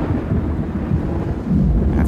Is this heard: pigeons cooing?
no